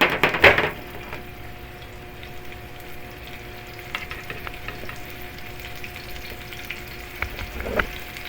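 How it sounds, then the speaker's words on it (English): Spiced burger patty searing in hot oil in a pan, a loud sputtering burst at the start easing into a steady close sizzle with occasional pops and a brief scrape near the end. "And we're going to sear it on both sides."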